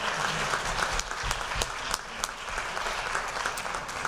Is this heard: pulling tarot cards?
no